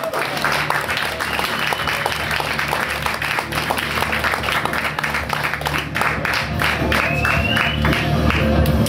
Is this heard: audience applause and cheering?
yes